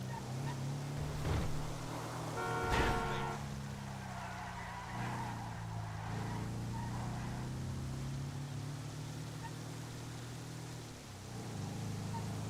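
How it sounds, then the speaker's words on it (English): Engine drone of a car taken out for a test drive in a video game, a steady low hum with shifting pitch across the whole stretch, plus a brief tonal chirp near the start. "I should probably take my next vehicle out for a test drive."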